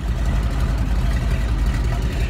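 An old radial engine on a biplane running as it warms up, a loud, close, steady low rumble with a rough, throbbing texture throughout.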